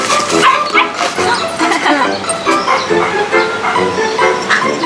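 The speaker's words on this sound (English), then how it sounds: "Fetch, dog, fetch." A dog in a Dum-Dums lollipop commercial yips and whimpers in quick, loud bursts, mixed with jingle music and voices.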